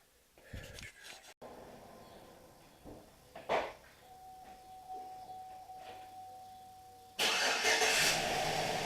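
Chevy LS V8 starting up after a lifter replacement, quiet shop clunks at first, then a brief crank and a loud engine catching and running near the end.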